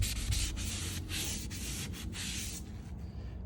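Mr. Clean Magic Eraser scrubbed hard over a stain's trickle mark, giving a steady close-up rubbing and sanding hiss with several brief pauses between strokes, alone without talk.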